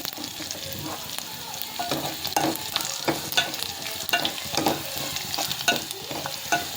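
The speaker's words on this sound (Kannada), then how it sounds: "ಈ ಥರ ಹಿಂಗೆ ಫ್ರೈ ಮಾಡ್ಕೋಬೇಕು." A pan of food frying on high heat makes a crackling sizzle with repeated scraping stirs at an irregular rhythm, close and moderately loud.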